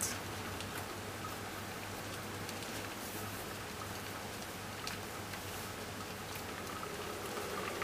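Rice and peas simmering in a pot on a stovetop over a low flame, a steady, even bubbling hiss with a faint low hum running through it, close and continuous throughout.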